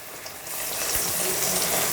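Muddha garelu, Telugu lentil fritters, frying in plenty of oil, a dense, loud sizzle that swells after the first half second and then holds steady on its own.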